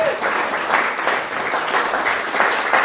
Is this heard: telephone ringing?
no